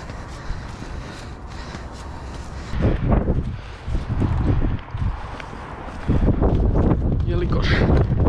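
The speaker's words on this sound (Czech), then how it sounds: "protože strašně fouká" Strong wind gusts buffet the microphone in loud, rumbling bursts atop a 115-metre chimney in central Prague, with quieter stretches between, and faint background sounds underneath.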